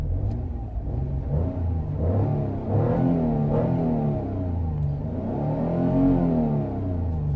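A 2007 Jaguar X-Type 3.0 V6 with misfire codes idles while stationary, a steady, slightly uneven engine drone with mild wavering in pitch, heard close and alone.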